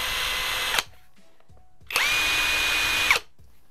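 Topshak TS-PW1 cordless impact wrench running free in two bursts of high whining motor noise, each about a second long, separated by a short pause, close and loud.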